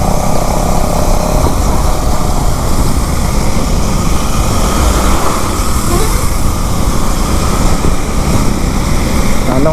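A group of about 50 KTM motorcycles drone together in a steady, loud roar mixed with heavy wind rush, continuous from start to finish.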